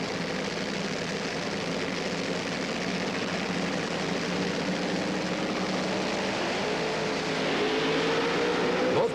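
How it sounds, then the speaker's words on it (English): Two Top Fuel dragsters at a 1977 NHRA Gatornationals event rumble steadily as they pull into the staging beams, a continuous loud engine drone with a rising tone near the end, no talk. "The 2 Top Fuel dragsters capable of speeds over 250 miles an hour, pulling into the staging beams, getting ready for their trip down the quarter mile"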